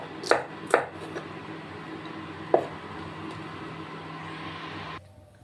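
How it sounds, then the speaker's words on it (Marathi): A knife chops okra and green chillies on a kitchen board in a few sharp, sparse strikes, two close together and then one more, over a steady low room hum. "भेंडी आणि मिरची कट करून झाली आहे"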